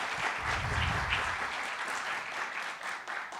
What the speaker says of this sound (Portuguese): Palmas para o Peterson, pessoal.